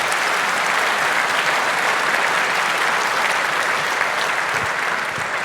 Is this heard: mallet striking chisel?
no